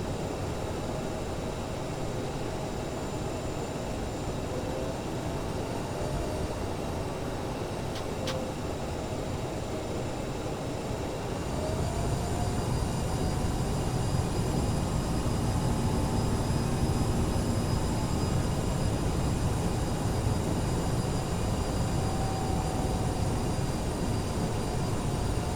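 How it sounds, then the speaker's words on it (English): A fixed-wing aircraft takes off in Microsoft Flight Simulator 2020. A steady engine roar rises and thickens partway through as power builds, followed by a sustained broad rushing drone with no talk. "Let's just do a nice takeoff here."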